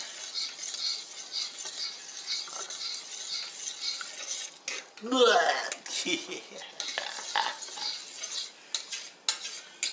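Scrambled eggs and sausage are mixed in a pan with busy close scraping and clinks of a utensil on the pan, bursts of stirring over a light sizzle, and no speech.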